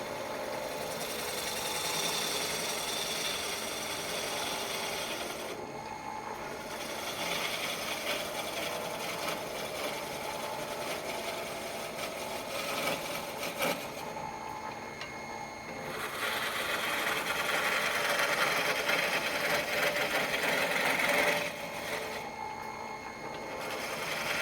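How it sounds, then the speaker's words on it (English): A roughing out gouge takes light cuts on a wooden tool handle spinning on a lathe, giving a continuous buzzing, scraping hiss with short pauses between passes, close and fairly loud. "one way to finish the handle is to just use your roughing out gouge"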